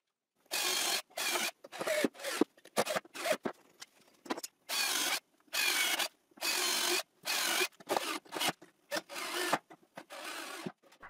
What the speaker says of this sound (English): And I insert 4 screws in each leg.